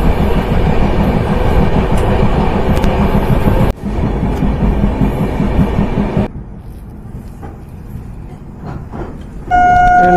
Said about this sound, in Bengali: ট্রেনটা কিন্তু খুব স্পিড, মানে খুবই অসাধারণ স্পিডে যাচ্ছে কিন্তু।